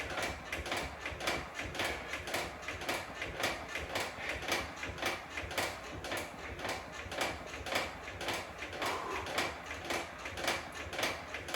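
A rotary torso exercise machine spins under use, giving off a fast, steady run of mechanical clicking and ratcheting whirr that stays even and close throughout, with no speech.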